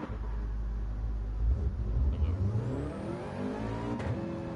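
Race car engine in Gran Turismo 7 at Brands Hatch, a loud sustained drone that revs up through rising pitch and then settles back, heard alone without talk.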